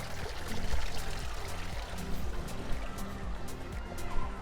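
Garden water feature at a listed house in Blackheath, trickling and pouring steadily and close by, a continuous splashing flow with no talk over it.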